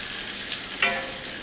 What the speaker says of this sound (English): Oh, we're starting to get a little sizzle down there.